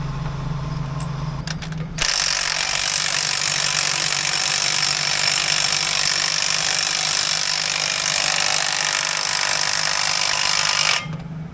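Welding new wheel studs onto a forklift brake drum in a workshop: a steady, loud crackling hiss runs for about nine seconds after a short low hum, then stops abruptly.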